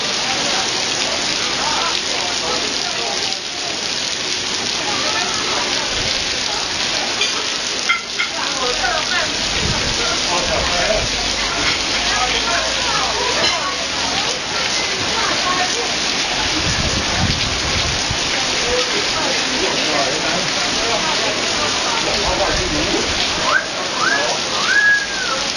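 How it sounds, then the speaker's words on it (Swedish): Rain falls steadily and hard, a continuous close hiss of drops striking the ground and nearby surfaces, with a few brief faint bird chirps near the end. "här har vi det fina regnet som vi står och bevakar"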